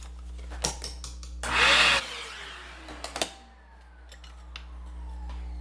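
A vacuum cleaner roars briefly at close range while a pedalboard is being wired, then its motor whines down, with clicks and knocks of handling around it.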